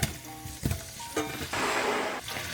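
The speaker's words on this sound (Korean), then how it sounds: "팬 하나 달고 올리브 오일, 들기름 두르고 물을 차례대로 올린 뒤 넓적한 뒤집개로 앞뒤 노릇하게 구워줘요" Thick radish slices pan-fry in olive oil and perilla oil with a splash of water, giving a steady loud sizzle broken by sharper spatters and bursts as a wide spatula shifts them.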